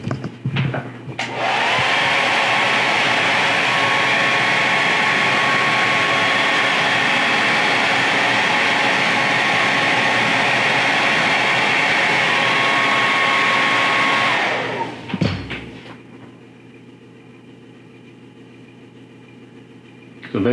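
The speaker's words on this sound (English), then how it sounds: "Get that the hair dryer." A loud hair dryer whirs steadily at close range for about fifteen seconds, then clicks off, leaving a quiet background hum.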